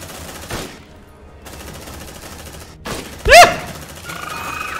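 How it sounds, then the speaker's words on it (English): A few shotgun blasts ring out in Aliens: Dark Descent, scattered across quiet game ambience, with one sharp, louder shot followed by a whining alien screech. "Damn, that shotgun does good damage."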